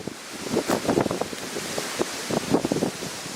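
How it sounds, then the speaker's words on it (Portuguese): Strong wind gusting outdoors on a sunny coast, a steady broadband rush with irregular louder buffets, close and loud, with no talking. "Tá muito vento"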